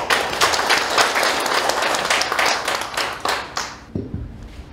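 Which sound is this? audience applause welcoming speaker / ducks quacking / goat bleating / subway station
audience applause welcoming speaker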